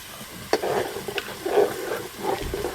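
Khichuri is stirred in a cooking pot with the lid off: a spoon scrapes and pushes through the thick mixture in several uneven strokes over a soft background sizzle.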